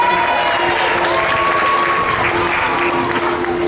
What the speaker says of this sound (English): Let's give them all a really big round of applause.